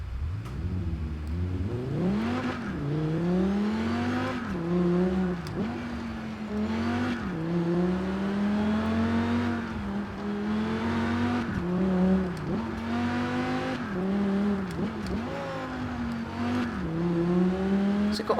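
Revving engine of the Cyberpunk 2077 Quadra V-Tech car in Forza Horizon 4, a loud continuous drone that rises and falls with repeated gear shifts and throttle swells, close and steady for the whole stretch.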